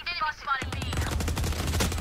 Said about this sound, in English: I'm getting shot out both ways.